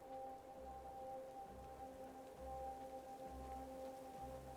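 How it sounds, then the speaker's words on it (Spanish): Steady rain falls in the South of the Circle video game, a soft, even patter behind a low, constant tonal hum, faint and continuous throughout. "pero si está lloviendo"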